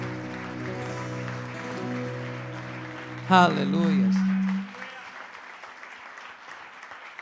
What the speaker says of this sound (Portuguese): E dê mais um aplauso a Jesus, Ele merece.